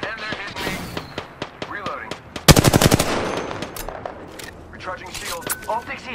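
Rapid automatic gunfire in Apex Legends, a dense burst of close, loud shots in the middle amid scattered single shots and impacts, with game voice lines heard over the action.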